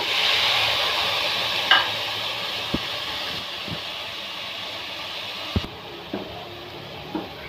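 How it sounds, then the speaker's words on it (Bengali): Rice fries and is stirred in a pan while making polao, a steady close sizzle with a few sharp clicks and scrapes of the spoon against the pan. "এই তো চাউলটা কষিয়ে ভেজে নিচ্ছি।"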